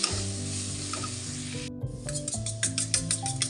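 Salted potatoes frying in a pan sizzle continuously, with crackling bursts and stirring scrapes, over a steady tonal background.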